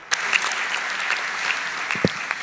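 A congregation applauds at a church gathering in the Palais du Peuple, dense clapping from many hands, fairly close and steady for a couple of seconds.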